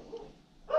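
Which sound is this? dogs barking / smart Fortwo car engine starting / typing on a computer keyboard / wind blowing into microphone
dogs barking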